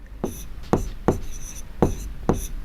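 Chalk or marker strokes on a board while working out a Class 10 trigonometry problem, five short scratchy taps spaced about half a second apart, fairly close, with no talking.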